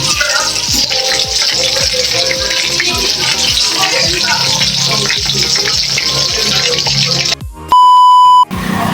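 Chicken fries loudly in a pan with a dense, continuous crackling sizzle, close up, and a steady electronic beep tone sounds near the end.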